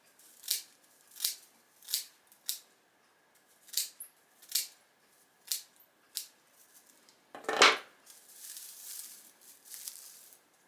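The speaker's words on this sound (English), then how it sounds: "you can come back with scissors and trim up that sweep end so that it's even" Scissors snip the sweep end of a hawk tail broom corn whisk, trimming it even: a steady series of crisp, close cuts about one per second, then a louder rustling burst and softer straw shuffling, no talk.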